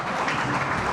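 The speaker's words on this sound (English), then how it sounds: "Huge round of applause," A round of audience applause for a guest at a business leadership awards ceremony, a brief dense wash of clapping heard steadily throughout.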